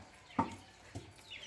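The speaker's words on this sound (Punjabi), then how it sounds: "ਇੱਥੇ ਸਾਜਦ ਅਲੀ ਦੇ ਮੁਰਗੇ ਛੋਟੇ ਛੋਟੇ ਆਏ ਫਿਰਦੇ ਆਣਗੇ" Small young chickens cluck in short, faint bursts, three brief calls spaced apart over a quiet background with no talk.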